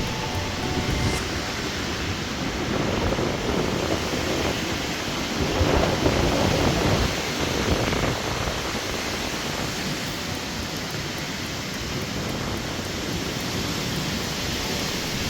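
A steady, roaring wind blows continuously with a broad rushing noise, rising slightly in the middle, a strong gale across a lake in Waterton, Alberta.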